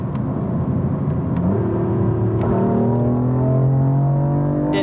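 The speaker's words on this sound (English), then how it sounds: "I'm going to downshift here" A 2020 BMW M4 Heritage Coupe engine revs up on a downshift while driving, a steady close rumble whose pitch climbs and holds, with no talking.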